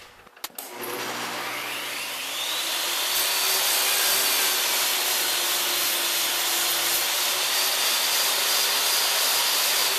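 A table saw cuts the end of a wooden hive body board held against the fence, a steady loud whining roar that starts after a brief clatter and swells as the blade bites through, continuous with no talk.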